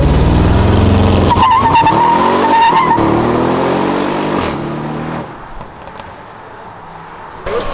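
A rare BMW car drifting on a street, its tires squealing in a loud, sustained skid with a revving engine, then fading into quieter road noise before a brief burst at the end.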